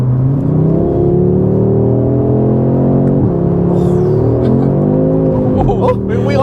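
An Audi RS3 8Y fitted with an aftermarket exhaust accelerates hard, its engine note rising in pitch through the gears, loud and close from inside the car, with a voice speaking over it.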